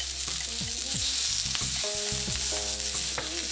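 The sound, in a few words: onions sautéing over very high heat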